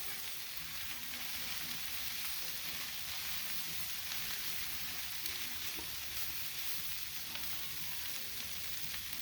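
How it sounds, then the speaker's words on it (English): Beef fried rice sizzles on a Big Green Egg griddle in a constant, soft, even hiss that holds steady from start to finish, with no voices. "Gonna scatter it out on the griddle a little bit."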